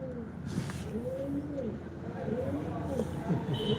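Soft pigeon cooing rises and falls repeatedly at a roadside bus stand, amid a busy outdoor background of traffic rumble and distant voices.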